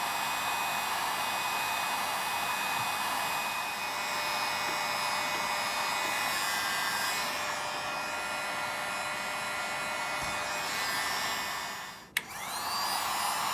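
A cheap Harbor Freight heat gun heating heat shrink tubing on an RC car spark plug wire, heard as a steady, close blower whoosh like a hair dryer that runs throughout, then a brief dip and click near the end.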